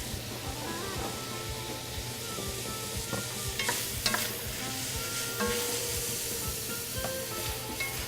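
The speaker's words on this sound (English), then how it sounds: "We'll give them a little bit of a saute." Food sizzles steadily in a hot pan, with a constant frying hiss and occasional scraping stirs throughout, no talking.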